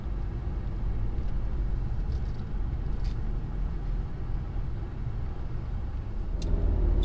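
A 2014 Nissan Rogue S with front-wheel drive and a CVT transmission on a test drive, giving a steady low road and engine rumble heard from inside the cabin, with no talk.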